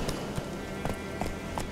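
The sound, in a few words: horse galloping in The Witcher 3 video game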